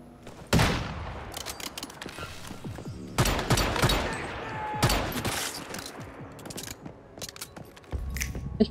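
Bursts of gunfire in the survival shooter Once Human, with loud volleys around the one-, three- and five-second marks and scattered shots trailing between them, no talking.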